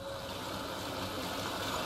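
A stream in Hellblade: Senua's Sacrifice flows with a soft, steady rush and gentle trickling, heard alone and close for a couple of seconds.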